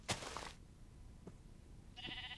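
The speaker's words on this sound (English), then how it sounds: "You hear those baaing sheep?" Sheep bleats from a Minecraft note block placed on wool, three short baas spaced apart, fairly faint, the last one brighter, with no talking over them.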